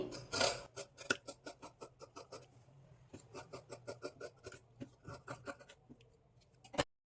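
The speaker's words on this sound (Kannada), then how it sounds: "ಕಟ್ ಮಾಡ್ಕೊಳ್ಳೋವಾಗ ಮೊದಲಿಗೆ ಬ್ಯಾಕ್ ಶೇಪ್ ಕಟ್ ಮಾಡಿಕೊಂಡು ಆಮೇಲೆ ಫ್ರಂಟ್ ಶೇಪ್ ಕಟ್ ಮಾಡ್ಕೊಳ್ಳಿ" Close-up scissors snip through blouse fabric, cutting the back shape of a size 46 boat-neck blouse. The crisp cuts come in quick rhythmic bursts with brief pauses, and one louder snip lands near the end.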